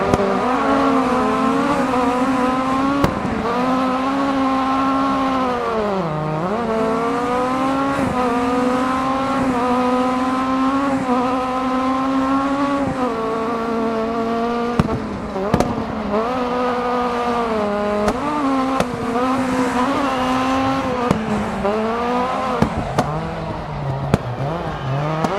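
Rally car in Dirt Rally racing game, engine droning and revving steadily at high volume for the whole stretch, with pitch dips on gear changes and brief sharp clicks and tire noise, no talk.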